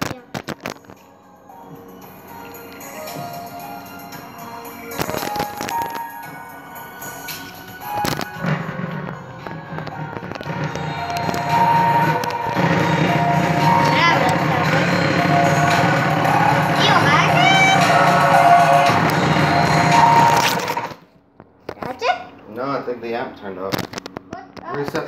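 Speaker overdriven through a Variac and amp, producing buzzing, distorted crackles and pops that build into a loud, sustained harsh drone before dropping out abruptly, followed by scattered crackles.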